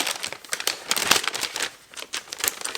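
Christmas gift paper being carefully unwrapped without tearing, with close, crisp crinkling and rustling in uneven bursts and a brief lull, no talking.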